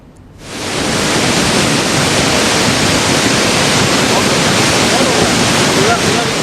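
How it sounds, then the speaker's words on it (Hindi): Floodwaters of the Bhagirathi river rush past in a loud, steady roar that begins after a brief quiet moment and keeps up unbroken throughout. "जिस रफ्तार के साथ भागीरथी का पानी बह रहा है"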